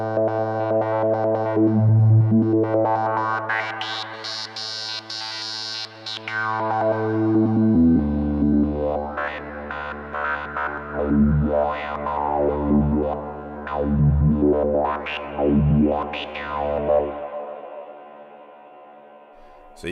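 An Arturia MicroFreak synthesizer plays Quantum Fold wavetables as a psychedelic texture: a thick, distorted, chorused drone that shifts into sweeping, pulsing swells with falling pitch bends, loud and continuous with no talking.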